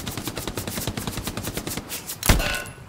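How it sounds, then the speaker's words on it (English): Rapid rhythmic gunfire rattles in the video game Hell Let Loose, followed by a single sharp, louder pistol shot near the end that rings out briefly. "I'm about to get him with my pistol"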